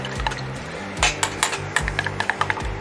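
Eggs are beaten for an egg wash, a fork clinking quickly and rhythmically against the bowl in a run of close, sharp taps.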